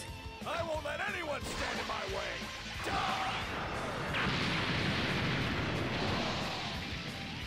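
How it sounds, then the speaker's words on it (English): Bardock's Final Spirit Cannon ultimate attack in Dragon Ball Raging Blast 2: charging whooshes and character shouts build into a sustained roaring energy blast and rumbling explosion, loud and continuous. "Bardock's final spirit cannon"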